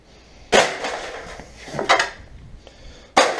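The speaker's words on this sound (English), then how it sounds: "this is plastic and it's breaking apart in small pieces" Plastic sections of a 65-inch Samsung TV cracking and snapping apart during scrapping: a sharp crack, a rattling stretch of breaking and clattering pieces, then another loud snap, close and alone.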